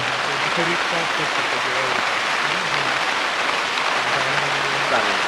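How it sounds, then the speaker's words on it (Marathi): Heavy rain pours steadily over a ridge gourd farm in Igatpuri, Nashik, a dense, even hiss that fills the whole clip while voices talk faintly beneath it. "आता खूप पाऊस पण चालू आहे एवढा पाऊस"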